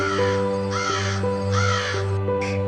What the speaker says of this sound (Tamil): அந்த காக்கா தண்ணீர் தேடி பறந்து பறந்து போச்சான்